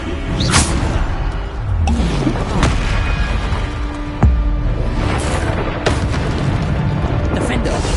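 Repeated magical blasting explosions in the video game Hogwarts Legacy, several loud booms and whooshes spread across a busy spell-combat soundscape, with speech present.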